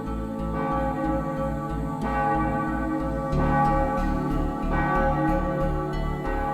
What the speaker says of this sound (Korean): 깨우는 맑은 종소리가 매일 새벽마다 울려 퍼지는 곳